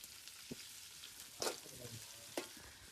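Onions sautéing in a pan for chicken curry during village-style cooking, a soft continuous sizzle with a few quick stirring scrapes, quiet and close.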